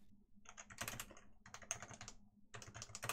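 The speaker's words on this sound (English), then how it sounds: "I can't write with my stupid keyboard." Bursts of fast typing on a computer keyboard, clattering key presses in three clusters, close and moderately quiet with no talking.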